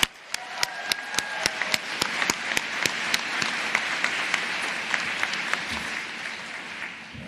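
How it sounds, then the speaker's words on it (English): A commencement audience at the Nicholas School professional ceremony breaks into a full round of applause. Loud, dense clapping fills the hall, with a few sharp, distinct claps at the start before it settles into a steady roar. "we can give them a round of applause in thanks for all that they do"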